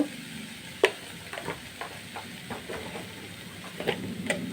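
Vegetables frying in a pan with turmeric, stirred with a spatula: a soft steady sizzle broken by a dozen or so light scraping clinks at an uneven pace, close and fairly quiet.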